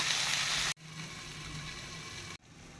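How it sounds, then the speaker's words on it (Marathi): Eggplant sautéing in a pan over a medium gas flame gives a steady, moderately loud sizzle with a broad hiss, cut off by two brief silences. "वांगी आता परतून घ्यायची मंद गॅसवर गॅस मिडियम ठेवून"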